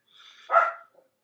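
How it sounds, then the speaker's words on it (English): A dog lets out a single short, sharp bark or yelp during a scuffle between dogs, heard once at moderate distance with nothing else around it. "That's my dogs fighting with each other"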